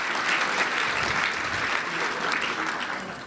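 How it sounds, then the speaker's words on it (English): A seminar audience applauds in a dense, even burst of clapping that holds steady and loud for a few seconds, with no voices over it. "but they applauded because they've had children"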